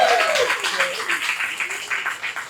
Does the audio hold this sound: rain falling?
no